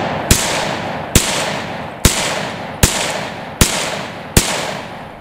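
A compensated Glock 31C pistol fired at night with power pistol powder, heard as six loud, sharp, close shots spaced almost evenly about a second apart over steady background noise.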